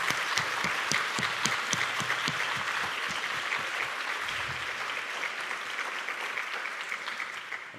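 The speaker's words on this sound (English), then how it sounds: "So can we have a huge round of applause to thank our host this year?" Symposium audience applauding the host: a dense, sustained burst of clapping from a large room that fills the whole stretch and tapers slightly toward the end.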